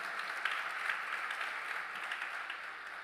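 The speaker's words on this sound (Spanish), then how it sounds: "Dele un fuerte aplauso." A church congregation applauds with a soft, continuous patter of clapping, fairly faint and steady over a few seconds.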